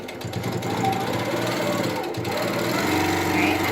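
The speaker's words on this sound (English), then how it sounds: "Now I'm on regulated mode, so I'm gonna sew at 12 stitches an inch just to kind of get started." An Innova sit-down longarm quilting machine stitches in regulated mode at 12 stitches per inch, giving a steady, close, rapid mechanical whir and needle chatter that runs throughout the clip.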